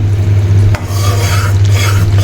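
Caramel being gently stirred in a pan while making sweet yogurt, a steady soft scraping and rubbing with a low sizzle underneath, continuous and close, with one brief clink partway through.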